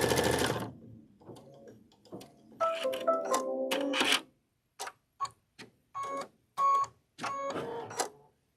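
Embroidery machine stitching out a word, a rapid mechanical tapping whir in short separate bursts with pauses, close and fairly clear in a quiet room.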